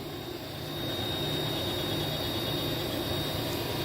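A Toolmax TUR-630M 25 x 70 inch geared head lathe runs at 335 RPM, giving a steady, dense mechanical drone with a faint high whine that swells slightly after the first second and then holds even.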